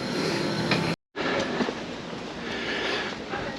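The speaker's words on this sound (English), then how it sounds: "This is the train to Berlin Friedrichstraße." A train to Berlin Friedrichstraße rumbles steadily along the rails with a broad, noisy roar, briefly cut by a moment of silence before the rolling sound resumes.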